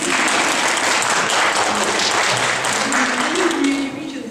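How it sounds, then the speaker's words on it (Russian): Crowd applause, dense and sustained, fills the space at close range and eases off slightly at the very end. "всегда аплодисменты."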